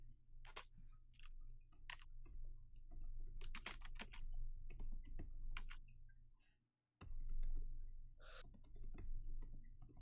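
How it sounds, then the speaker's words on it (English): Computer keyboard typing clicks away in quick irregular bursts, close and fairly quiet over a low steady hum, with a brief drop to silence partway through. "You're typing away."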